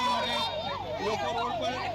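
An ambulance siren wails in a rising and falling cycle, repeating several times fairly close by on a flooded road in the Akota area of Vadodara, with steady background noise beneath it.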